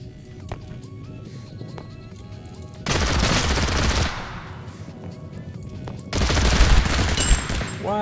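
Bursts of automatic gunfire in a PUBG or TABG battle royale match: two long, loud, dense stretches of rapid shots separated by quieter moments with distant pops and background game noise.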